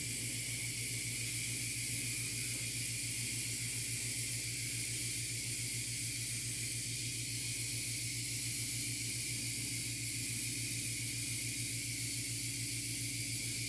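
Paint mists from a sprayer onto a quarter-scale custom figure in a steady, unbroken hiss that holds at an even level throughout.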